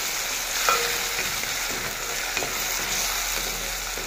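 Frozen green beans sizzle and spatter in plenty of hot oil in a pan, a steady, close frying hiss with a few brief pops and stirring scrapes, no voices.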